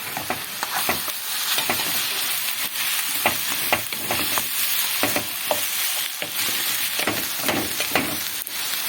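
Ground meat sizzles and fries in a hot pan while a utensil stirs it, with steady crackling broken by repeated scraping taps at an irregular rhythm, close and fairly loud, with no voices.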